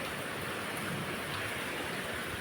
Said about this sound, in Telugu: ఫుల్ వర్షం పడుతుంది గాయ్స్.